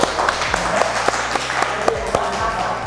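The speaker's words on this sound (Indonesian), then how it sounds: "Tepuk tangan." Classroom applause from students in an automotive engineering class, a short burst of clapping with voices mixed in.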